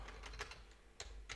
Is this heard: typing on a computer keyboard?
yes